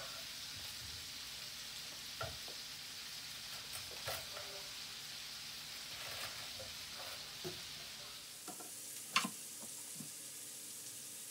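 Onions frying in a pan for jagerschnitzel give a soft, steady sizzle, faint and continuous, with occasional scrapes and light clinks from stirring.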